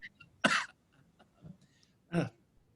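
A man gives two short, separate coughs, close and fairly soft, during a staged reading of an Oscar Wilde comedy.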